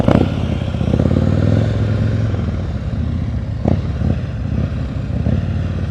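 A motorcycle ridden at slow speed in a practice session in Maryland, its engine putting along in a steady low, close rumble, with a few light clunks partway through.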